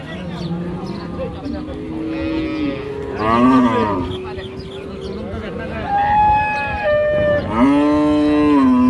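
Cattle moo repeatedly, several long loud calls from nearby animals overlapping one another amid the busy background of a crowded livestock market in Raniganj, Dinajpur.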